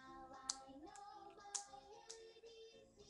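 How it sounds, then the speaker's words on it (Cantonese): A small child claps hands a few times, sparse light claps spaced about half a second to a second apart, close and fairly quiet with a faint tonal sound beneath. "拍手掌啦！"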